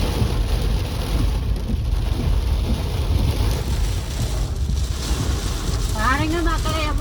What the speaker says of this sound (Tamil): பாருங்க மக்களே, எவ்வளோ மழை மக்களே.